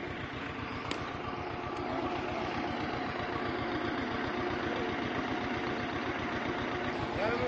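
A tractor's diesel engine idles with a steady, rapid low chugging throb that continues evenly throughout, with no speech.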